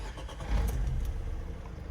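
A 2013 Opel Vivaro van's 2.0 litre engine cranks and catches, settling into a low, rumbling idle; brief and fairly close.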